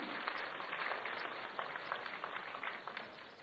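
Audience applause fills a convention centre inauguration, a steady wash of many hands clapping together, fairly distant and unbroken throughout.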